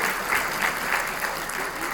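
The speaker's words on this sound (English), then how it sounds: "Ladies and gentlemen, let's give a big round of applause for all the platinum sponsors." An audience at a charity event applauds the platinum sponsors, giving a steady, dense round of clapping from many hands that continues for the whole clip.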